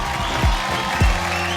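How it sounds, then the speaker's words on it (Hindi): Brief burst of audience applause for a contestant on a stage show, steady clapping with a couple of low thumps. "जोरदार तालियां"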